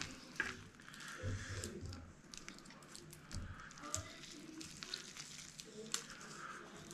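Spicy seafood noodles (jjambbong) with mushrooms keep cooking in a hot pan after the heat is turned off, giving a soft, steady close sizzle with light squishy stirring noises throughout.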